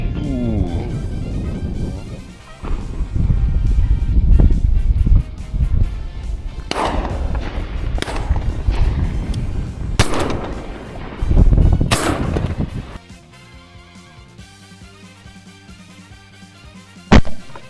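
Shotgun blasts at wild ducks on a driven hunt in Bohemia, Czech Republic: several loud, sharp reports with short echoing tails, spaced irregularly over the first thirteen seconds, then quieter ambience and a final thump.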